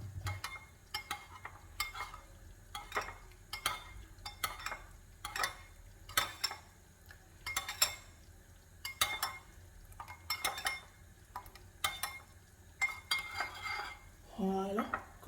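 A spoon scrapes and clinks steadily against a bowl while tomato concentrate is stirred into water, regular strokes repeating near and clear across the whole stretch.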